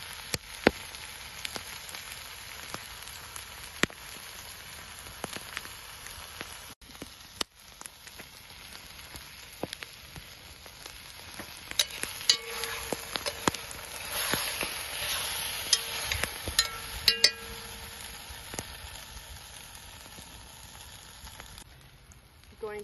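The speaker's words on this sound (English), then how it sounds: "I'll bring you over to show you the sauteing meat" Bison meat sautés in a pan over a wilderness cooking fire, giving a long, steady sizzle with scattered sharp pops and clicks that grows denser and louder toward the middle.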